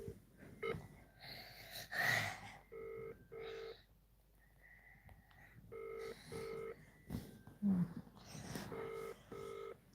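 Telephone keypad dialing tones before a voicemail message, several short evenly spaced beeps in groups, fairly close and clear, mixed with faint breathy noises.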